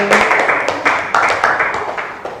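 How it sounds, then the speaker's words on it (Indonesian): Classroom applause for a student group, a short burst of scattered claps and taps from a modest number of people, fairly close and lively, lasting a couple of seconds. "boleh tepuk tangan untuk kelompok"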